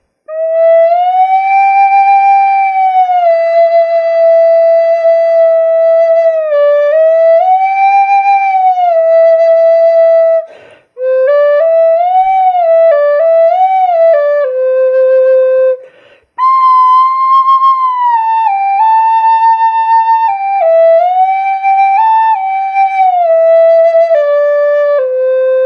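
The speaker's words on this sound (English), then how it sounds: "To bend the notes, you'll slide your finger off the note slowly." A side-blown spirit flute with notes bent by slowly sliding a finger off the hole, long sustained tones gliding smoothly up and down in pitch, close and loud, in several phrases separated by brief breaths.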